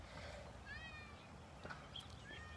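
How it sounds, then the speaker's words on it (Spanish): A cat meows several times, rising and falling cries that want to get out, fairly faint and indoors against a low background hum. "el gato se quiere salir"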